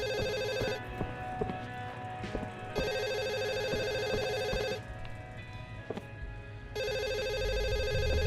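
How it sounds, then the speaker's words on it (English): A landline-style telephone rings in repeated electronic bursts with pauses between them, loud and close over a steady background hum, with no talking. "It's the phone. Where is our phone?"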